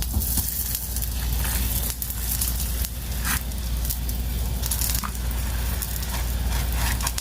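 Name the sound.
besan roti cooking with ghee on a griddle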